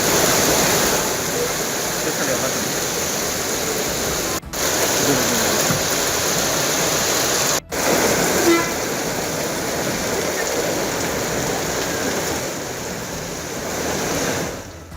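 Heavy monsoon rain pouring in the Uthukottai area of Tiruvallur district, a loud, dense, continuous roar filling the whole stretch, briefly dropping out twice in short gaps.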